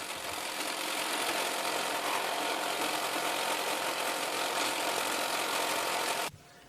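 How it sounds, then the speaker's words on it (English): A buffing wheel polishes a parang made from a sawblade, giving a loud, steady motor whir with a broad hiss that runs without a break and then cuts off abruptly near the end. "After hand sanding, I buff it on my buffing wheel."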